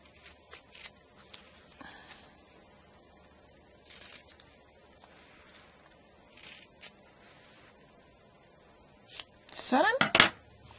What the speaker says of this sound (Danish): Så klipper jeg rent.